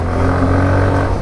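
A Daytona Versus 125cc scooter engine revs with a deep, steady bellowing hum, loud and close, holding a continuous drone through the short stretch.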